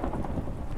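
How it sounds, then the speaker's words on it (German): Thunderstorm with rain in a building video game, a brief steady wash of rainfall with a low rumbling swell, fairly loud and alone. "Es gewittert auch noch! Dauernd!"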